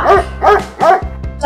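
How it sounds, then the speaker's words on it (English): A dog barks three times in a close, loud, evenly spaced series, followed by two softer yips. "This is a dog."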